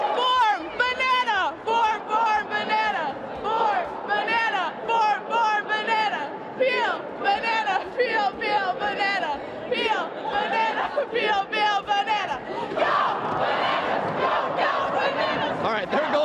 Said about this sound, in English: We like to do the banana cheer.